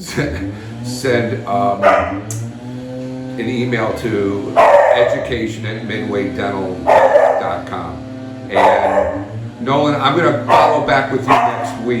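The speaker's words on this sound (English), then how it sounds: "Sorry about the barking dog," A dog barks intermittently in the background of an online business meeting, a few scattered yips and barks under steady close talk from a man.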